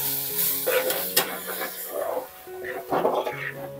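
A prawn biryani mixture with Everest shahi biryani masala is stirred in a pot, giving scraping and soft sizzling under steady talk, with a few sharp clinks along the way.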